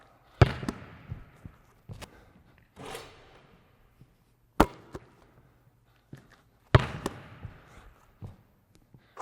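Basketball shooting practice off the elbow, with a ball dribbled into position before each shot: sharp, irregular bounces and thumps in bursts with quiet gaps, close by, no talk.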